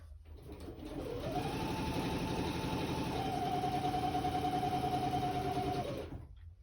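Household sewing machine stitching in one continuous run of about five seconds, a close, even motor whir with rapid needle chatter and a steady tone, no talking.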